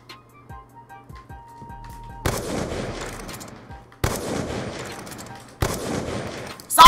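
Gunfire in Black Ops 2 during a one-on-one match, with three sharp loud shots spaced over several seconds, each followed by a rumbling tail. Quieter game sounds fill the opening.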